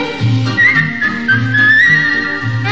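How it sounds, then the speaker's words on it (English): A person whistles a cheerful melody with a clear, sliding tone over a steady musical accompaniment with a pulsing bass line. "Just whistle while you work."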